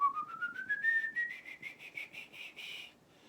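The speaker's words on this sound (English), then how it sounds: "I taught myself how to whistle" A lone person whistles clearly, opening with a rising slide into a run of short, evenly spaced notes that climb and then hold, fairly soft and close with no talk.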